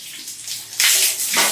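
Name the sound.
water poured out from a tank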